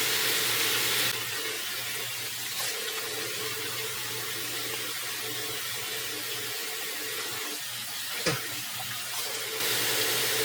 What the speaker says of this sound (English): we're gonna wash our hands before we even lay a finger on our face.